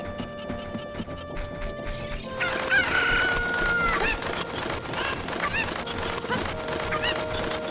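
Cucco chickens in The Legend of Zelda: Ocarina of Time crow and cluck loudly in several sharp game-sound bursts over steady background music.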